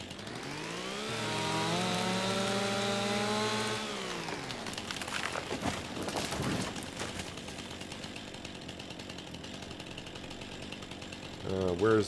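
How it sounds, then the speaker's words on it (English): Chainsaw cutting a tree in the Farming Simulator 25 video game: a revving engine whine that rises, holds and drops, then a rougher cutting rasp, with a voice talking over part of it. "I think I need to keep the chainsaw angled a little bit when I'm looking for that red marker"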